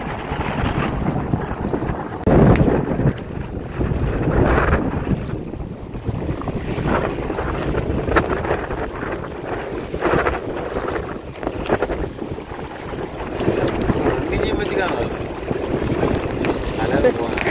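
A single-engine motorboat drones steadily on open sea off Mandaitivu island amid heavy wind buffeting and splashing waves, with voices faintly under the noise.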